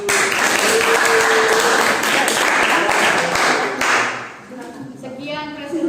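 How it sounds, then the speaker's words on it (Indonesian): A classroom audience claps together for a few seconds, dense steady applause that tapers off, followed by a voice speaking briefly. "kita beri aplaus ya"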